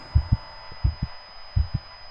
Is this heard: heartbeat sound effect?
yes